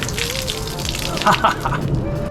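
Water gushes and splashes out of a removed rear light unit on a Range Rover Sport L320, a steady close pouring under low background noise.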